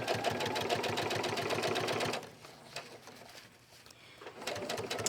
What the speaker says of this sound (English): You're going to just keep sewing and finish all the way around.